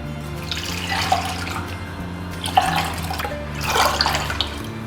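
Water poured into a large mixing bowl of fresh curd, three cups to one, to make buttermilk; a steady splashing pour with gurgling swells, close and alone.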